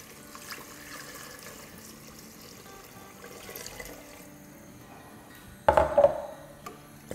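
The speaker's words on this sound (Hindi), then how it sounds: "साथ ही इसमें हम डालेंगे 4 कप यानी 1 लीटर पानी" Water poured into a cooking pot while making street-style haleem, a short splashing burst near the end that follows quiet kitchen background noise.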